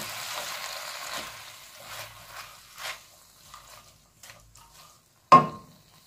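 Vegetables, capers and fish are stir-fried in a pan with curry paste for a coconut curry, giving a soft sizzle with light stirring scrapes that fades, ending in one sharp clink of utensil on pan.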